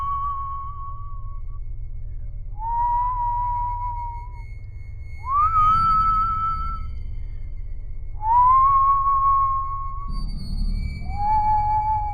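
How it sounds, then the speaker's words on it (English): Long, eerie whistled notes, each held and gently sliding in pitch, repeating with pauses over a low rumbling hum. "More whistling, all the way down the corridor"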